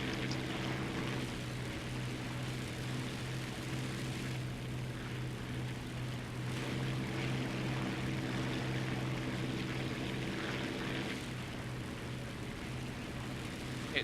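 Propeller aircraft engine droning steadily in War Thunder, a continuous loud hum with a stable low tone and faint wind noise over the whole stretch.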